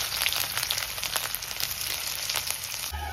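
Ginger and garlic frying in hot soybean oil: a loud, steady sizzle with dense crackling that runs nearly unbroken, then eases slightly at the very end.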